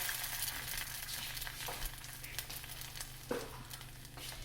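An egg fries in a pan with a steady, close crackling sizzle that runs throughout at an even level, broken by a few small pops and spatters.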